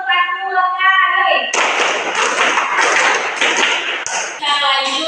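A classroom of students claps together in counted rhythmic groups, a burst of sharp, close hand claps in a quick regular pattern, framed by a teacher's spoken counting before and after.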